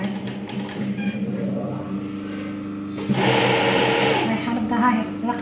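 A sewing machine stitches a qandoura dress in a steady, continuous mechanical whir that surges louder partway through, with someone talking over it.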